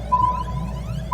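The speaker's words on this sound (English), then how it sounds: "The beeping is only worse as it returns" A steady electronic alarm tone beeps inside the cramped submarine of Iron Lung, one long sustained pitch with a low rumbling hum beneath and a new beep starting at the end.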